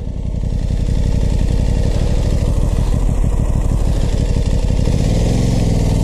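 A 2021 Aprilia Tuono 660 motorcycle engine running loud and close, a steady throbbing idle that rises as the bike pulls away toward the end.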